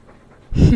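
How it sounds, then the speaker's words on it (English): A dog in the video game Dragon Age 2 pants in one short, loud, close burst of breathy huffing after a quiet moment. "All that noisy dog breath,"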